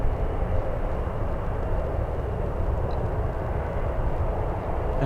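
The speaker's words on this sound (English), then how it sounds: "We have an Alaska Airlines 737 MAX 9 flying to Seattle," Alaska Airlines Boeing 737 MAX 9 departing San Francisco airport for Seattle, a steady, broad jet engine roar holding loud and even throughout, with no talk over it.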